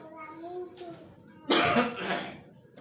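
A sudden harsh cough bursts out loudly during a Sunday church service, following a few moments of soft voices, then trails off into quieter breathy sounds.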